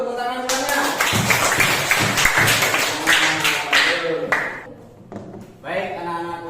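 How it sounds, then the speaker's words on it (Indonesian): Students applauding in an Indonesian classroom: a few seconds of scattered, fairly close clapping that fades and stops, with a teacher's voice speaking over and after it. "Yuk tepuk tangan semuanya."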